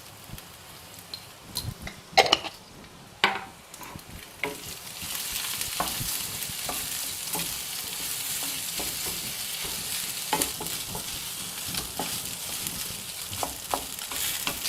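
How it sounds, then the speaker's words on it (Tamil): Cooked rice with turmeric being stir-fried in a pan, a steady close sizzle with scraping stirs and clinks of the spatula recurring throughout. "அந்த சாதம் எல்லாம் லைட்டாக ஓரளவுக்கு ஃப்ரை ஆகிற மாதிரி இருக்கணும்"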